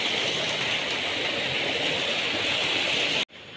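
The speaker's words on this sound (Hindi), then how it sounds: "ये नेचुरल पानी है जो आ रहा है" Natural water rushes steadily at Sahastradhara in Dehradun, a loud, dense, continuous hiss of flowing and falling water close by that cuts off abruptly at the end.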